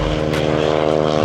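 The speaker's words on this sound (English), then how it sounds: "Biplane." A steady propeller-engine drone from a biplane in flight, loud and close, with a dense buzzing hum that holds constant throughout.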